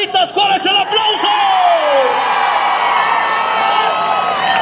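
A rodeo crowd in Texcoco roars and cheers for a rider named Tarolitas, a loud sustained wall of voices with whoops and shouts, a few claps at the start, then a long swelling cheer.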